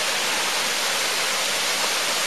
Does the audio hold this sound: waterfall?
yes